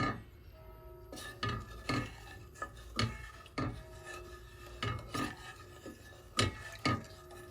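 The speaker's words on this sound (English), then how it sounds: "So keep stirring this until everything is nice and smooth and melted." A utensil scraping around a pot while stirring butter, sugar, vanilla sugar, salt and oil for churros, giving a steady series of close, rhythmic rasping strokes, roughly one every half second, with no talking.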